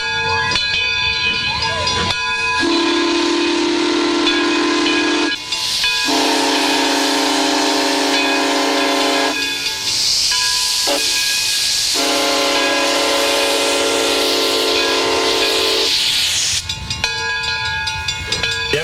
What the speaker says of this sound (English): there's nothing quite like the sight and sound of a steam locomotive as it gets underway